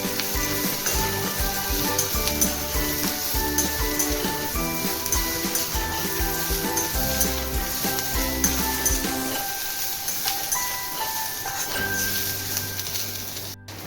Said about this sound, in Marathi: त्याच्यात आपण लसूण टाकूया आणि खोबरं पण टाकून घेऊया. छान परतून घेणार आहोत आपण.